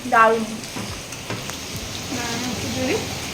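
Potatoes frying in a pan make a steady, close crackling sizzle that runs throughout, with a voice talking over it.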